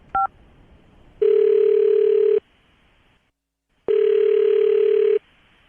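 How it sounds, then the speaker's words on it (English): Telephone line tones sound while a call is being dialed: a short keypad beep, then two long, loud, steady tones separated by a pause of silence, each lasting over a second. "I'm going to dial the phone number right now"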